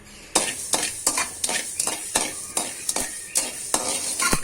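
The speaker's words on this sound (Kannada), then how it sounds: "ಸಾಸಿವೆ ಹಾಕಿ 2 ನಿಮಿಷ ಚಟಪಟ ಅನ್ನೋಷ್ಟಕ್ಕೆ" Mustard seeds spluttering in hot oil for a quick mango pickle, with loud crisp crackles and pops bursting at a quick irregular pace over a soft background sizzle, close up with no talking.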